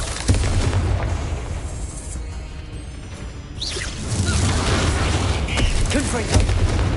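In Hogwarts Legacy, a fiery Confringo spell explosion from a wizard battle booms low and heavy, followed by whooshing bursts and rumbling impacts that swell again after a brief quieter stretch.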